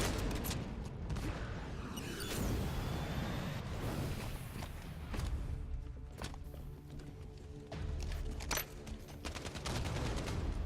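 Rapid gunfire in Halo 5: Guardians, bursts of automatic shots rattling continuously with scattered impacts and footsteps, loud and close throughout a busy multiplayer firefight.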